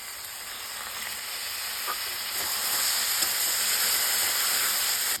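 Sour yogurt mixed with a little salt is poured over potatoes in a hot pan while cooking ghugni, giving a steady, loud hissing sizzle that swells slightly and keeps going without a break.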